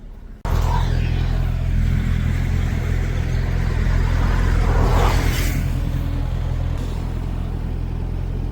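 A 2025 Honda CBR650R motorcycle starting off on a ride: after a brief quiet moment, a loud steady engine rumble sets in close by and holds for several seconds, swelling slightly midway as it pulls away.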